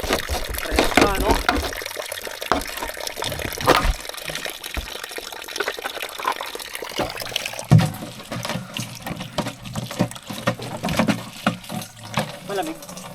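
Cold water from a natural spring gushes and splashes steadily close by, with people talking over the flow throughout.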